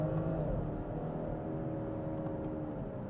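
A 2019 BMW 640i xDrive Gran Turismo with the B58 engine accelerating hard under full throttle, a steady, smooth engine drone heard from inside the cabin with no talking.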